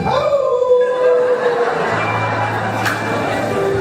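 A preacher imitates a dog howling during a sermon, his voice rising in a long wavering howl, then sliding into a lower drawn-out moan with a faint crowd murmur underneath.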